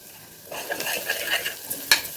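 Turmeric frying in a pan with a sizzle that rises suddenly, then continues with soft stirring scrapes and one sharper clink near the end, close up and fairly quiet.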